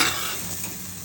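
Tempering spices crackle and sizzle in hot oil for a South Indian satvik lunch: a dense, bright burst of frying that starts loudest and eases slightly over a brief moment.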